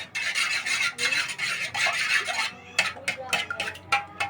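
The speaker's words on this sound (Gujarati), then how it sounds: "તો હવે આપણે એને હલાવીશું, અને હલાવીને એકદમ મિક્સ કરીશું." Metal spoon stirring and scraping egg bhurji gravy in a pan, a steady rasping scrape that runs continuously, then breaks into shorter separate strokes near the end.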